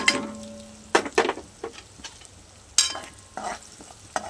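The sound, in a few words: spices sautéed in oil: red chili, coriander, garam masala, turmeric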